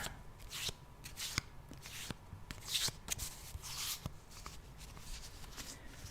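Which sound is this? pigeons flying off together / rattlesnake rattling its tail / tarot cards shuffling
tarot cards shuffling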